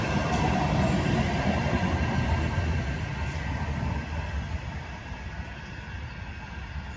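A Manchester tram pulls away along its route, a steady rumbling rail roar with wheel and motor noise that slowly fades as it moves off.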